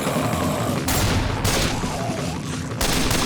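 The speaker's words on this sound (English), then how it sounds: "I love the guns in this thing are massively louder than the other ones" Gunfire in the Left 4 Dead 2 video game: dense, loud bursts of shooting with several sharp onsets, under a continuous heavy roar of game noise.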